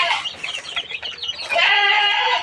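Sixteen-day-old layer chickens on a poultry farm make busy overlapping clucks and chirps, which build into a fuller, steadier chorus toward the end. No voices are heard.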